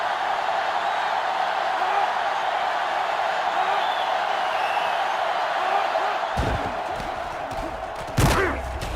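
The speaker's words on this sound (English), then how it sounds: "And this crowd is going crazy." Football stadium crowd at a college game roars in a steady, loud sustained wash of cheering, then the din drops and breaks into sharper thumps and bursts near the end.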